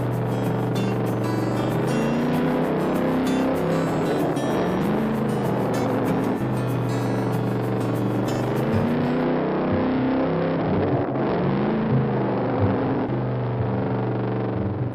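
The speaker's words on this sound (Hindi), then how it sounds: "तब रवि बाइक को तेजी से चलाकर नीरव को खींचते हुए गांव में घुमाकर" Engine of a cartoon motorbike revs steadily and races off, a continuous loud droning roar with shifting pitch lasting throughout, no talk over it.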